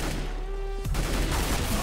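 Rapid gunfire in Counter-Strike: Global Offensive, a quick burst of close, sharp shots cutting over steady game background noise.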